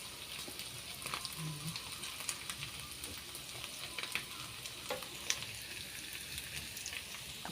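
Fish frying in a pan gives a faint, steady crackling sizzle with scattered sharp pops throughout, with no talking.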